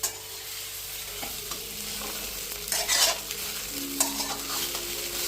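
Vadas being stirred and fried in oil over a low flame, giving a steady close sizzle with scraping stir strokes and a few louder bursts, no voices.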